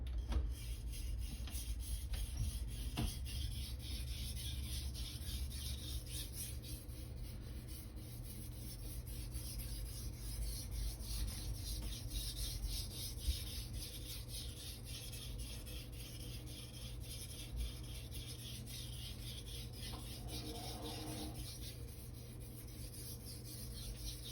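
A 240mm Blue Super gyuto knife is sharpened on Naniwa whetstones, giving a steady, close scraping rasp of steel on stone that continues without pause and with no talking.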